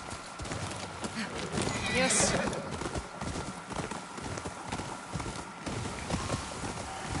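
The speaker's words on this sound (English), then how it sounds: "Let's go ahead and call our horse." Horse in the Ghost of Yotei video game arrives at a gallop with rhythmic hoofbeats and a loud whinny near the start, while a person talks over the sound.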